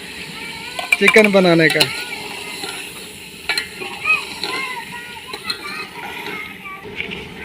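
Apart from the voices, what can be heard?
tomatoes added to chicken frying in a pan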